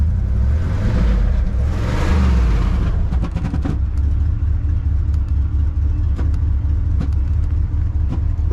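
A 1979 Cadillac Coupe DeVille engine idles loud and close, its rear muffler holed. A deep, continuous exhaust rumble swells slightly early on, then settles into a steady drone with occasional sharp ticks.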